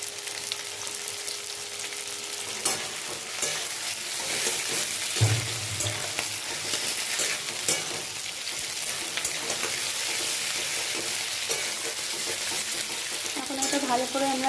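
Capsicum stir-fries in a hot pan for veg manchurian, with a loud, continuous close sizzle and intermittent scraping of a spatula as the pieces are tossed.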